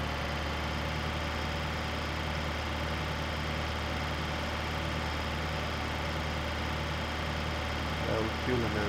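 A tractor engine runs steadily in the video game Farming Simulator 2013, a low continuous drone at moderate level with a person talking over it throughout.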